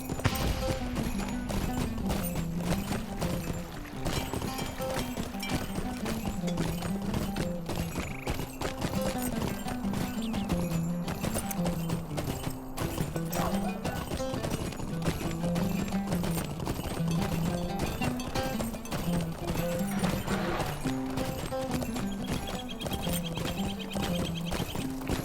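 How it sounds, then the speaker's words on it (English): A jingle goat mount in the LOTRO video game trots along with jingling bells and rhythmic hoofbeats, steady and continuous under looping game music. "I hear the bells jingling On your jingle goat."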